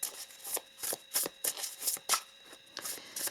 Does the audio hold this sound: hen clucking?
no